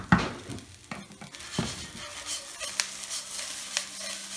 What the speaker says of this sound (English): You don't want to burn that rice, so make sure you keep moving it every now and then.